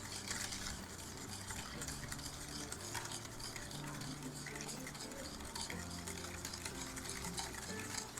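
A spoon stirs yogurt and sugar together in a bowl, a continuous scraping, clinking churn at close range that runs unbroken for several seconds.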